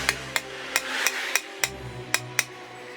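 Nine sharp metallic hammer taps at a steady, slightly uneven rhythm, tapping out a dent on a Honda CT125 motorcycle, close and clear over a low background hum.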